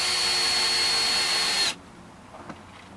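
A power drill drives a screw into plastic inside a minivan during a bed build, whirring loudly and steadily for over a second and a half before cutting off, followed by a few faint handling clicks.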